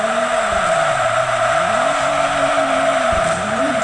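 Car drifting on the Tsukuba circuit, a loud, sustained tire squeal over a wavering engine note that rises and falls as the car slides, with two brief thumps breaking the skid.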